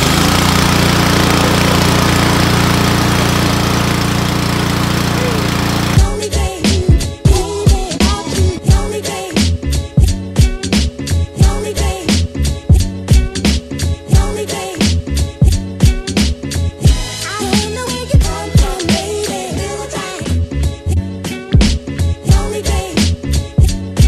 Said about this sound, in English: Choke on, run a couple times, key in. The hell is this? Throttle full.